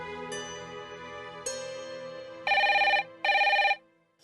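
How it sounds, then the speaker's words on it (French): A telephone rings in a French-dubbed TV drama with distinct electronic bell tones, several clear rings in a row with a repeating pattern, loud and close, and no talk over it. "Même le son du téléphone m'effraie beaucoup ces derniers temps."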